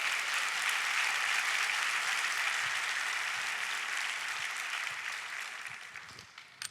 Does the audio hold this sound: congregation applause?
yes